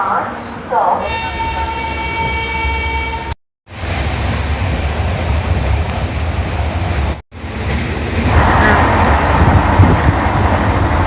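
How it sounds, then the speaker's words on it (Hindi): A New Delhi to Darbhanga Clone Humsafar Express train running past: a loud, continuous rumble of rolling wheels and carriages with an early horn blast, briefly cut twice, then surging louder toward the end. "हमारे पीछे प्रस्थान कर चुकी है नई दिल्ली से दरभंगा जाने वाली क्लोन हमसफ़र एक्सप्रेस"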